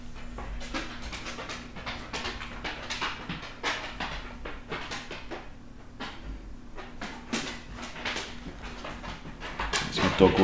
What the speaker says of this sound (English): There's my dog walking in.